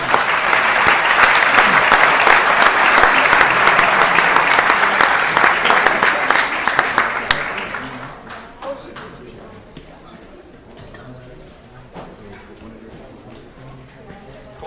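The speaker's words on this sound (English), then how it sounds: "Let's give them all a big applause." Audience applause fills council chambers packed with people, loud sustained clapping for about seven seconds that then fades to scattered claps and murmuring voices.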